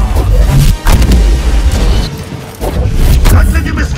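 Blaster shot fired in Star Wars Jedi Fallen Order during combat on Kashyyyk, loud and close, one of several sharp booming bursts amid chaotic battle noise and game sounds.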